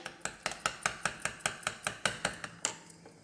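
A mix of egg, onion, green chili, coriander leaves and salt is beaten by hand in a bowl, making about a dozen quick, evenly spaced clinks close up, with no talking.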